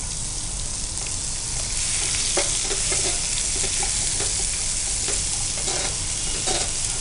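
Onions hitting hot oil with cumin seeds in a pan for gongura fried egg rice, a steady close sizzle with occasional stirring scrapes and spatter pops throughout.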